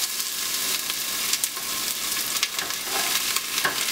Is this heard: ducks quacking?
no